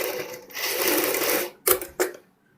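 Sewing machine stitching the top edge of a kurti collar: a steady motor whir for about a second and a half, then two short separate bursts of stitching, close and alone, with no talk.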